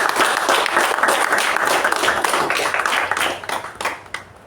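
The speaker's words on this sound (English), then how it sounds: "A round of applause for the speaker and the evaluator." Audience at a Toastmasters meeting clapping for a speaker and evaluator, a loud, busy burst of many hands that holds steady and then thins out toward the end.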